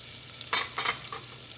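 Grated ginger, green chilli and curry leaves sizzle in a pan with cumin, and a spoon scrapes through them in two or three quick close strokes over a faint continuous frying hiss.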